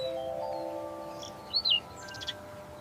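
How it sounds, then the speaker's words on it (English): A quail gives two quick, sharp chirping calls close by, then a fainter short chirp after them, set over a quiet sustained musical tone. "This is a quail."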